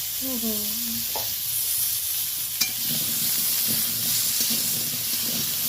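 Vegetables seasoned with salt and a little turmeric fry in a pan, giving a steady close sizzling hiss with a few faint stirring knocks. A voice is heard briefly at the start.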